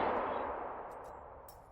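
A single sharp gunshot in the video game Trepang2 bursts at the start and decays away, with a few faint clicks and ticks trailing behind.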